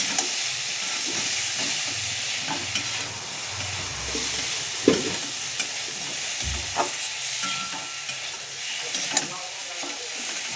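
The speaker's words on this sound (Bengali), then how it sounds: "এবার আমি ভেজে রাখা আলু আর ওলটা দিয়ে দেবো। দিয়ে একটু ভালো করে কষাবো মশলার সঙ্গে ভালো করে।" Fried potato and elephant foot yam being stirred into spice paste in a pan for a rohu fish curry, with a constant hissing sizzle broken by scattered scraping and clinking strokes of the spatula throughout.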